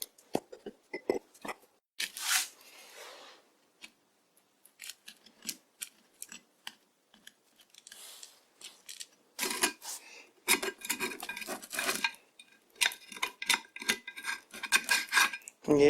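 Old, long-baked grime being scraped out of an unbranded lathe chuck, heard as bursts of dry scratching and rasping strokes, sparse at first and then denser and louder, close up with no talk.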